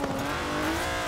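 A tuned limousine in the Forza Horizon 4 racing game roars with a strong steady engine drone and rising tonal whine as it drives and slides, loud and continuous with no talking.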